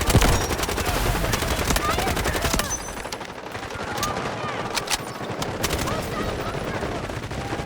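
Rapid automatic gunfire in the shooter game Delta Force, loud dense bursts up front easing into scattered nearer and farther shots.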